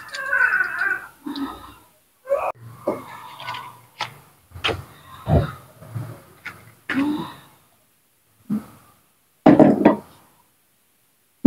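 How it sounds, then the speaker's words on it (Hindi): Spices being chopped with a knife in a home kitchen while cooking a village-style vegetable dish: irregular close knocks and taps on a board, some short and some in quick runs, with gaps of quiet between them. "बाकी जो मसाले हैं वो मैं फिर काटती हूँ"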